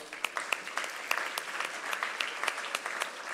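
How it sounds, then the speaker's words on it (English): Audience applause at an Interact district assembly, a moderately quiet crowd clapping steadily with a few sharper nearby claps standing out across the short burst. "I think it calls for a round of applause."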